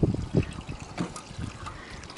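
Water drains from the gutters of a frame house roof, giving soft irregular gurgling and trickling spurts close by with no talk.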